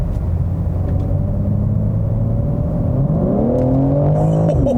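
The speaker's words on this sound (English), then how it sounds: "I would never get tired of the acceleration in this car" A 2022 BMW M3 Competition xDrive accelerates from inside the cabin, its engine drone steady at first, then rising sharply in pitch as revs climb before a shift drops it back down.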